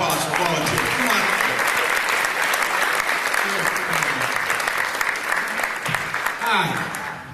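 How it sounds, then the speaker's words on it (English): An audience at a 1990s magic show claps in dense, sustained applause for a volunteer called up on stage. A voice speaks over the clapping as it carries on. "Let's give him a nice round of applause for volunteering."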